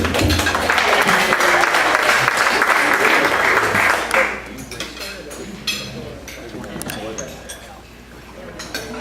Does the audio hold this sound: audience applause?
yes